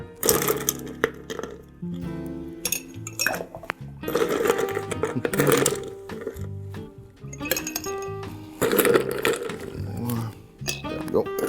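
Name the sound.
stirring ice in a mixing glass for a Sazerac cocktail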